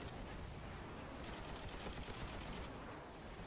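Dense, continuous gunfire from a Call of Duty 4 multiplayer match, bursts of automatic weapons and overlapping shots filling the whole stretch at a steady, busy level with no talk.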